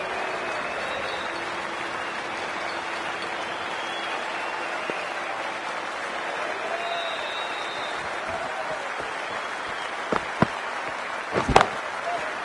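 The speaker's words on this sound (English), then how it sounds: "There's an almost tangible fervour throughout the crowd at the moment." Crowd noise from a Cricket 2K24 match: a steady, distant wash of cheering and applause carries through, with a few sharp clicks and knocks near the end and no clear speech.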